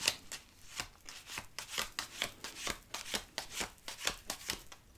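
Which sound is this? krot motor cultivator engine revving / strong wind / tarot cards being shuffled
tarot cards being shuffled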